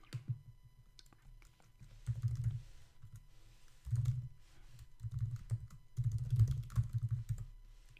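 Typing on a computer keyboard, with clusters of soft, close key taps coming in bursts separated by short pauses, fairly quiet, without speech.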